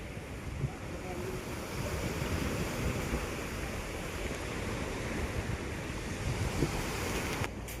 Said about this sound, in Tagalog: Matindi ang hangin.